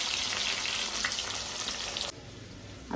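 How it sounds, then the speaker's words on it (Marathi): Onion is added to hot oil and fries with a bright, crackling sizzle that runs steadily, then drops sharply to a quieter simmer near the end; no one speaks. "आपण ह्याच्यात कांदा घालूया म्हणजे ते फ्राय होईल"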